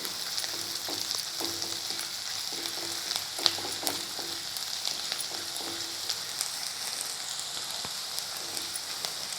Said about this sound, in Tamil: இஞ்சி, பூண்டு, இது ரெண்டையும் போட்டு சும்மா ஒரு நிமிஷத்துக்கு வதக்கிக்கோங்க.